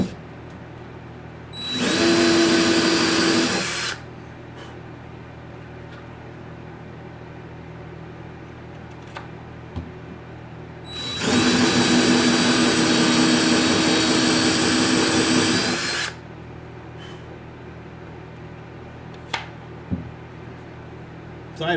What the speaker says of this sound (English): here I am just drilling this thing off stream